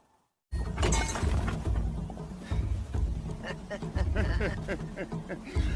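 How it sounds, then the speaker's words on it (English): A trophy shatters in the video game Horizon Zero Dawn, a sustained glassy breaking clatter mixed under voices and game sound at moderate level. "Your trophy is shattered, outcast."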